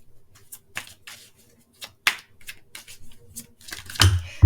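Tarot cards being shuffled up close, an irregular run of crisp papery riffs and slaps with short gaps between them, ending in a heavier flurry and a thump.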